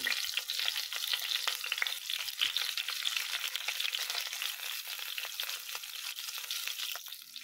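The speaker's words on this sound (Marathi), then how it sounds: "सगळ्या मिरच्या अशा परतून घ्यायच्या आहेत." Stuffed green chillies fry in a pan for a Marathi-style bharli mirchi fry, giving a steady, close sizzle with occasional light scraping from stirring, without pause and no talking.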